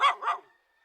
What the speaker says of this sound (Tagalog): Daming aso na sumalubong sa akin oh.